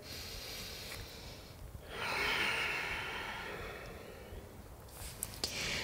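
A person takes deep breaths during a yoga session, one long, audible inhale and exhale, close and soft, with faint rustling around it.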